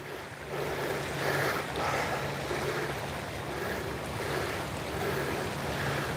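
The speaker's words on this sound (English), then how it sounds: "This wind is horrible." Strong wind at a lake during a fishing trip buffets the microphone in a steady, rushing roar that rises and falls in gusts. There is no talking.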